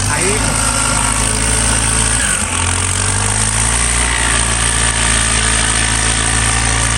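A Mitsubishi MU55 engine fitted with a newly upgraded turbo runs steadily at close range, giving a loud, continuous low rumble with constant vibration and a brief dip in the middle.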